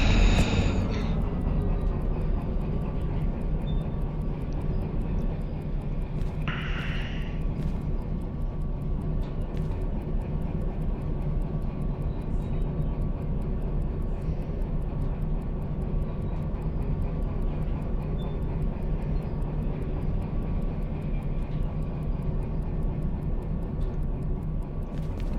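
A locomotive in the VR train game Derail Valley throttles up, giving a steady, loud engine drone with a low rumble that runs the whole time and some faint ticking and clanks on top.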